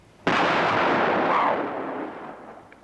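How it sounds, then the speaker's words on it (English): Sudden boom of an explosion sound effect from a TV show, a sharp blast followed by a long rumbling roar that slowly fades over a couple of seconds, loud and alone. "It adds up to a very large explosion in whatever area one finds both A and B."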